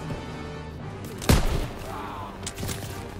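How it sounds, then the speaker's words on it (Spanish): Call of Duty WWII battle on D-Day with a machine gun firing from above, a loud nearby burst of gunfire followed by a fainter second volley over a constant rumble of combat ambience. "Hay una ametralladora arriba."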